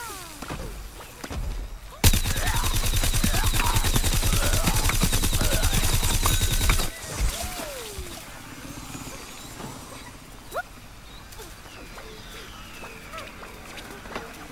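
Weapon fire in the video game Plants vs Zombies Garden Warfare, a loud sustained burst of rapid shots lasting several seconds, followed by scattered game effects and quieter sounds, with someone talking over parts of it.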